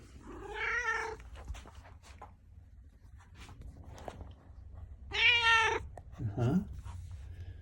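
A cat greets its returning owner with loud, drawn-out meows, two strong calls and a shorter chirping one spaced over several seconds, close to the mic, with a brief murmur from a person in between.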